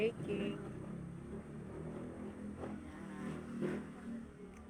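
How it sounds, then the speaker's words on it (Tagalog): A noisy motorized tricycle passes on a nearby roadside, its engine a rough, moderately loud drone that rises and falls over a few seconds at low overall level. "Napakaingay na tricycle."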